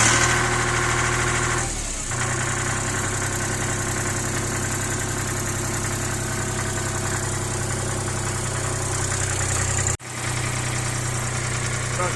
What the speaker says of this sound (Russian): Трактор завелся легко.